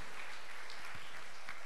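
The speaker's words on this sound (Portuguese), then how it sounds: "Palmas para ela, minha gente." Soft, scattered applause from a church congregation during a festival triduum mass, faint and brief in a reverberant hall.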